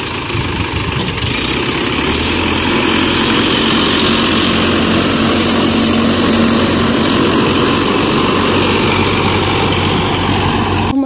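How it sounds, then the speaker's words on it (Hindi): Paddy threshing machine engine running steadily at a farm during rice harvest, a loud continuous droning hum with a constant low tone throughout, no voices. "मशीन भी आ चुकी है, फटाफट से बस गेहूँ सॉरी धान और निकालने बस।"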